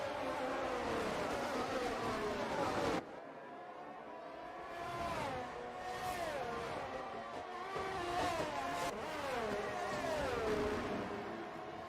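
Formula-style race cars in a sim racing game, racing at Zandvoort, with high-pitched engines screaming, rising and falling through gear changes and braking, several cars close together, loud and continuous, with a sharp cut in tone early on.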